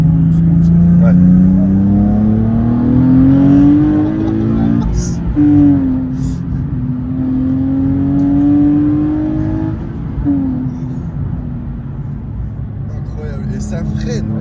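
A Nissan 370z accelerates hard from up close, its engine note climbing through rising sweeps with short breaks at the gear changes, loud and continuous, while people talk over it at times.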